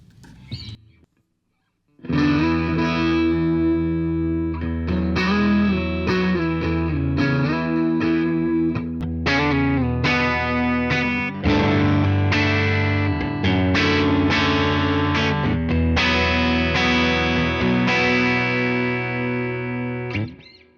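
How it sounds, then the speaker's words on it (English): An electric guitar plays crunchy, distorted chords and ringing notes through a Tone King Imperial tri-tube preamp pedal. It is loud and continuous after a short quiet start, with no talking. "That sounds fantastic, like really beautiful crunch."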